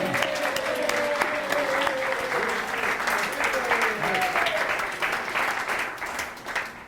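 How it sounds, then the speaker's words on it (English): Guests at a Cass Tech 60th class reunion dinner give hearty applause, a dense room full of clapping with scattered cheers and voices mixed in, tapering off near the end. "Let's join me in a round of applause."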